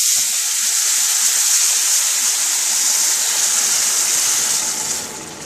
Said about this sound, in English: you're going to add 2 1/4 cups of water